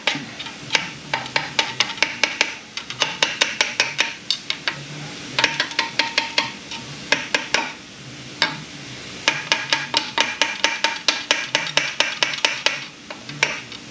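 Light metallic tapping on a transmission part during an A750F transmission rebuild comes as rapid irregular clusters of sharp ticks, close up, with brief pauses between bursts and no talking.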